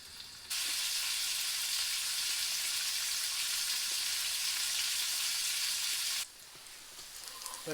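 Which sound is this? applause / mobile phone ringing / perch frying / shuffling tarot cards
perch frying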